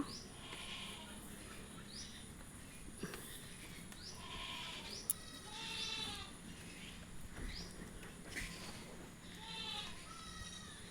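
Goats bleat in a goat shed, a series of wavering cries at mid distance, some overlapping, over a low background hum with faint bird chirps.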